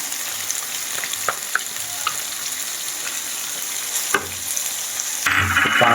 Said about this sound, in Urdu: میں قیمہ کو فرائی کرتا ہوں۔ ساتھ لہسن ادرک کا پیسٹ شامل کریں گے۔